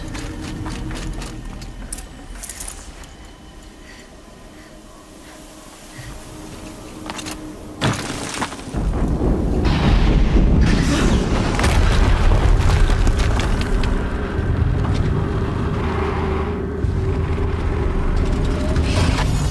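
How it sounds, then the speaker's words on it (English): Explosions in the video game Horizon Zero Dawn: a deep boom lands midway and gives way to a sustained loud rumble of rolling blasts and debris, with earlier scattered impacts. "Another explosion."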